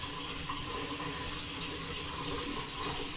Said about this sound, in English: since we're running a bunch of water through, we'll check to make sure we don't have any leaking on our S-trap anywhere